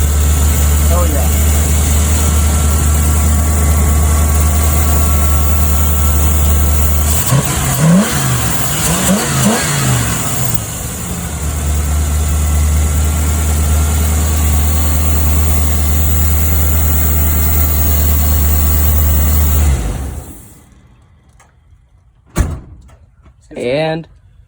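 A 1992 Ford F-150, started for the first time in years, idles loudly and steadily close up, with a brief rev in the middle, before the engine cuts off and a few faint knocks follow in near silence.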